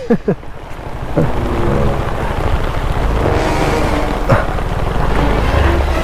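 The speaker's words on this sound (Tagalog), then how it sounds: "inabutan na tayo ng ulan" Heavy rain pours steadily and close by during a thunderstorm, with a broad hiss and a low rumble under it, and brief thuds near the start.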